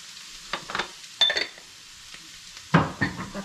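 Rice noodles with vegetables fry in a pan while being stirred, giving three short bursts of sizzling and scraping between quieter gaps, close and without talk.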